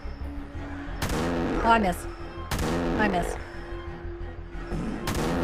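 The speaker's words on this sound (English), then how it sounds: "Summon shitty shotgun" Three loud shotgun blasts in the indie horror game Fart Killer, spaced a second or so apart, each with a sharp crack and a ringing tail. A man's brief exclamation comes between the shots.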